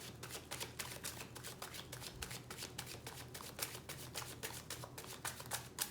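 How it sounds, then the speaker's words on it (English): Cards are shuffled continuously, a rapid stream of crisp flicks and riffles close to the microphone with no voices. "it's like the shuffle that never ends"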